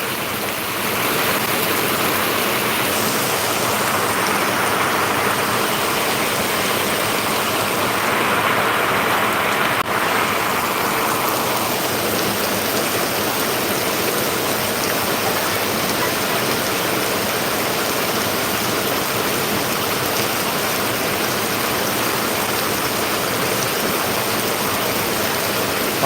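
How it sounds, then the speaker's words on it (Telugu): A dense, unbroken roar of heavy rain pours steadily for the whole stretch at the Guntur chilli market yard, loud and close, with no voices. "పడుతుంది వర్షం"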